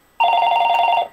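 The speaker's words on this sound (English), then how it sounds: "my phone's going to ring." A mobile phone rings once, a loud, close electronic trill with a sharp onset and a short decay, heard by itself without speech.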